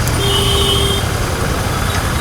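Royal Enfield GT 650 motorcycle engine running steadily nearby, a sustained low rumble with faint high whines and hiss above it, and no voices.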